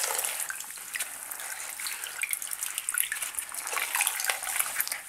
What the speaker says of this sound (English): we're going to take our garment and we're going to put it in our hot bath